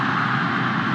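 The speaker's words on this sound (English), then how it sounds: "this is the roar of the Nepali faithful." Steady, dense roar of home supporters at a Nepal versus Myanmar women's international football match in a stadium, a continuous broadband wash of crowd noise with no breaks, loud and enveloping throughout.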